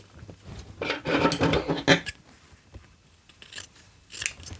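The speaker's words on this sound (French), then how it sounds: "je coupe un premier morceau, un deuxième" Scissors snipping through pieces of fabric for a sewing project, close and fairly quiet: a cluster of crisp blade closes, a pause, then a few more cuts, with no talking.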